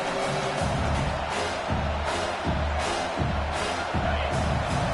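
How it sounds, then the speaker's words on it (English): Stadium crowd at a college football game roaring for the defense on third down, a dense sustained wall of cheering with rhythmic surges throughout. "Decibels rising as the crowd gets behind this defense on 3rd down"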